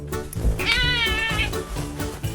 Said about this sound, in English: Kitty sprints into position, meowing like he's placing an urgent meal order.